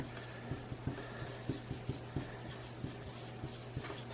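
A number is handwritten on paper in a quiet close-up, with a rhythmic series of small taps and scratchy pen strokes over a faint steady hum, and no talking.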